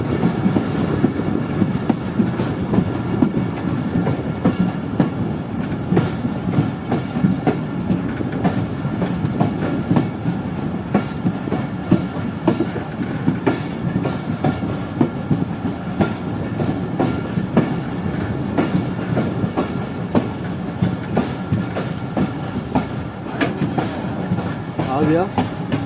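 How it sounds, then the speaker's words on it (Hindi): The Rehman Baba Express passenger train rolls into Bahawalpur railway station on a foggy winter day, a steady rumble with clickety-clack of wheels over the rails heard from inside the carriage, continuous and fairly loud. "तो ये भावलपुर रेलवे स्टेशन पर पहुंच चुकी है हमारी ट्रेन।"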